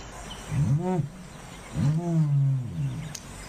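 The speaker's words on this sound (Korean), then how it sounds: "타조가 이런 소리 나는구나" An ostrich gives two deep, drawn-out calls, each rising and then falling. There is a short gap between them, and no voices are heard.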